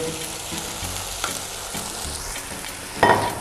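Yogurt goes into a pan of frying beef kofta curry with tomato purée, setting off a steady close sizzle and fry that surges louder near the end as the liquid hits the hot oil.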